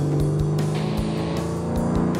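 Close, loud engine drone of a 700-horsepower Chevrolet Corvette Z06 under acceleration, a steady harmonic roar with rhythmic low pulses across a short stretch, no talking.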